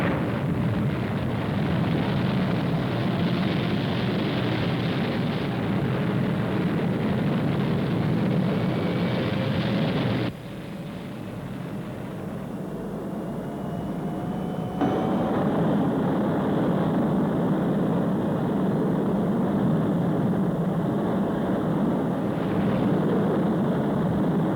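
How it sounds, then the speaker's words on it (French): A spacecraft lifting off gives a loud, steady rumbling roar that dips briefly midway and then swells back to full strength. "Décollage sans incident."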